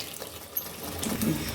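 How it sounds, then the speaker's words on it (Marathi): Water is poured into a pan of spinach gravy on the stove, making a brief soft splashing and trickling close by. "थोडंसं आपण ग्रेव्हीमध्ये पाणी घालणार आहे."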